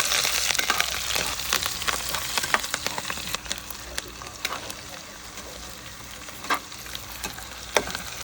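Chopped onion and chilli fry in a pan, giving a loud continuous sizzle and crackle with scattered stirring clicks and scrapes.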